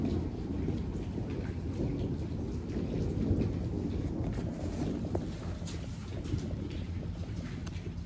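Steady outdoor rain with a low, distant rumble of thunder during a storm, a continuous wash of sound with no nearby crack.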